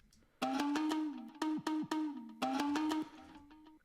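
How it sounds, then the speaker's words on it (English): A tonal synth phrase in an Afro House track produced in Logic Pro breaks off in vinyl-stop fade-outs, the pitch sagging downward as each held note winds down and stops, over a few seconds. "the fade outs with the vinyl stop sounds like this"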